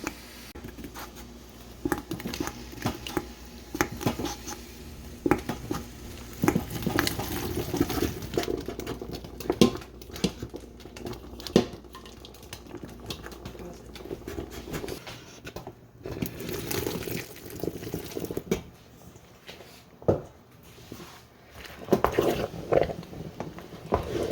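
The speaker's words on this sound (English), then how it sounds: "Now we're going to add the apples in." Apples tumble into a thick, bubbling pot of apple pie filling being canned, with irregular wet plops, splashes and soft bubbling patter going on steadily at close range.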